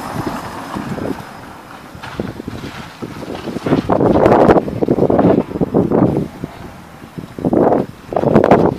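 Gusty wind on an exposed beach buffets the microphone in rough, roaring bursts, with a faint thin whistle running underneath.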